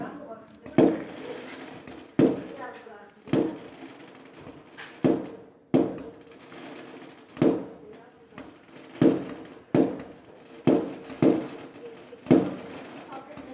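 Fireworks explode right next to a house in a series of about a dozen sharp booms spaced roughly a second apart, each fading with a short rumbling tail.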